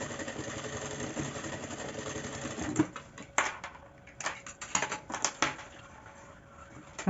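A sewing machine stitches a baguette bag, running a steady buzzing rattle for a few seconds, then breaking into short bursts and clicks as it reverses back and forth, fairly faint and close.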